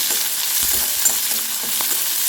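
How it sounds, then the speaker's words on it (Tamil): Onions with green chilies and curry leaves sautéing in a hot pan for beetroot poriyal, with a steady close sizzle and occasional stirring scrapes and no voices. "இப்போ நம்ம நல்லா வெங்காயத்தை வதக்கிக்கலாம்"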